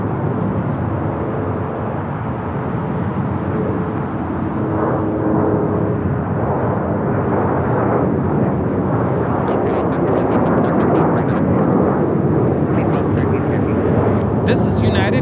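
A United Airlines Boeing 737-900ER takes off from Los Angeles airport in heavy wind, its loud, sustained jet roar building steadily under a strong, gusty wind rumble.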